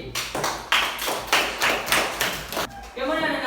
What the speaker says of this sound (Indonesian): tepuk tangan dulu buat Feli